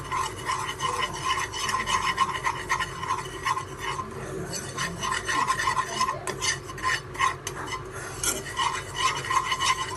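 Maida sautéed in ghee over a low flame, a spatula scraping and rubbing rhythmically against the pan in steady close strokes with a soft underlying sizzle.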